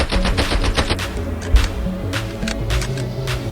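Rapid TEC-9 submachine gun fire in the mobile shooter Call of Duty Mobile, loud close bursts of repeated shots with a dense rhythm, then sparser single reports and brief pauses.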